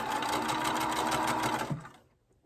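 A sewing machine runs in one steady, rapid stitching burst while sewing a cross-stitch pennant, then stops abruptly near the end, leaving near silence.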